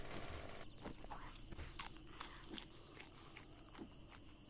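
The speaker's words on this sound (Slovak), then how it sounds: "Musíme zjesť asi to jedlo pre psov." Crunchy chewing and biting sounds of a character eating dog food in the survival game 7 Days to Die, a run of wet bites over a low steady game ambience, with no talk.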